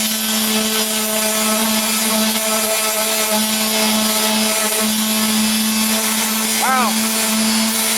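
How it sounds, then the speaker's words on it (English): A power sander works over the hood of a 1998 Toyota Corolla, a steady close whirring drone with a constant tonal hum and gritty abrasive rasp, briefly rising in pitch near the end. "I'm just letting the sander do the work"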